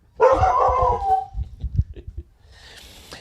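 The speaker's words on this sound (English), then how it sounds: "Dogs are mad at Lau and Zang." A dog lets out a drawn-out howling bark, then several shorter gruff barks follow in quick succession, loud and close, before a faint higher rustle at the end.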